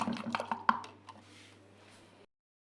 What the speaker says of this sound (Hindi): पानी में थोड़ा सा सर्फ ऐड करें इस तरह से और इसको ऐसे मिक्स करें।